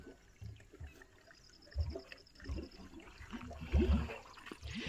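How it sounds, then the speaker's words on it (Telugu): Water runs into a farm storage tank in faint, uneven splashes and gurgles, rising in a few louder surges before settling back to a low trickle. "చూడండి, నీళ్ళు అయితే వచ్చేస్తున్నాయి"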